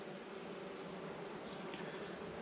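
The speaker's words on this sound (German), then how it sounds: "noch eine Methode, um übrigens Bienen wegzukriegen, ist leicht berühren die Tiere" Honeybees on the hive comb during a colony inspection, a continuous, even buzzing drone from many bees, soft and close with no talk.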